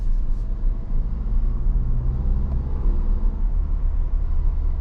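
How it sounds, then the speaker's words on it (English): Steady low four-cylinder engine drone with road rumble from inside a moving 2022 Ford Bronco Badlands with a 7-speed manual, constant and fairly loud, no talking. "you have the 4-cylinder sound and everything"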